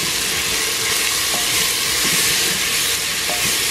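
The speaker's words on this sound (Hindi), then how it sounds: "ओके अब अनियन ऐड कर देंगे हम।" Sliced onions fry in a pan for chicken biryani, a loud continuous sizzle with occasional stirring scrapes close up, and no voices.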